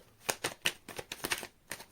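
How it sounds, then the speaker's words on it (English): Tarot cards being shuffled in quick bursts, a series of crisp riffling flutters close to the mic with short pauses between them, no talking. "Right, last shuffle."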